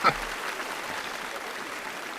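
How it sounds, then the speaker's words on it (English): Canned applause effect triggered from a button during a live online show, a steady wash of recorded clapping at low level that starts with a brief bump and runs evenly to the end. "I have an applause button here somewhere."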